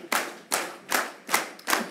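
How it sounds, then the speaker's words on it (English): Congregation claps hands as percussion in a Methodist church service, five loud unison claps in a slow steady beat, each a broad burst with a short ring, no singing or talk over them. "we'll have a little hand clap percussion"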